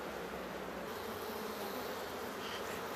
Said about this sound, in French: Et là il y a des faux bourdons et ça c'est les ouvrières.